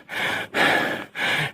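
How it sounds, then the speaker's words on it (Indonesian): Heavy panting breath from a runner on a steep uphill climb during a Dieng trail run, three loud, close gasping inhale-exhale bursts through nose and mouth with short pauses between them. "napas ngos-ngosan itu seperti ini"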